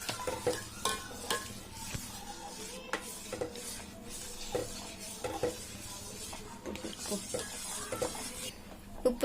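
Rava being stirred in a pan, with a steady run of close spatula scrapes and light clinks against the metal over a soft sizzle, sparse and rhythmic throughout.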